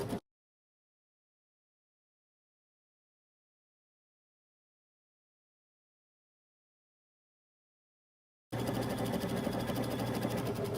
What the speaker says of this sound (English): And then I'm going to top stitch like I did with the hem, just down the sides of my pocket.